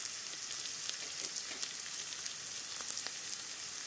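Garlic, cloves and cardamom sizzle steadily in hot oil, a dense continuous crackle with a few sharper pops, close and fairly loud, with no talking.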